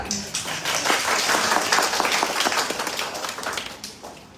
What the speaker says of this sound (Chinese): 咱来为因拍 手来鼓掌